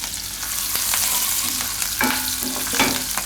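Asafoetida and green chillies sizzle in hot oil, a close, bright crackling fry with a few sharp spatters and stirring clinks over a few seconds, no speech.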